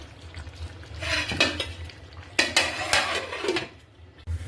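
A metal kadai is set down on a stove with hot oil, ready for frying eggplant; clattering cookware knocks and scrapes come in short bursts, close and fairly loud, with no talking.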